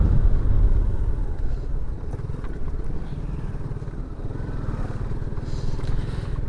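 A motorcycle rides along a mountain road, its engine giving a steady, close, rumbling drone throughout with no speech.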